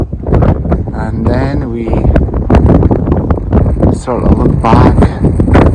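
Gusty wind buffets the microphone on a hilltop overlooking the northern part of Medicine Hat, rumbling loudly and continuously beneath someone speaking throughout.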